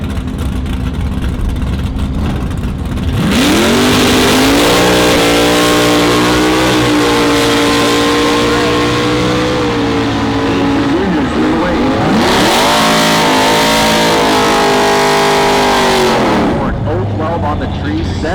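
Drag racing cars, one an Oldsmobile, launch at a heads-up drag strip, screaming loudly as the engines rise and fall through two long, roaring passes under an announcer's voice.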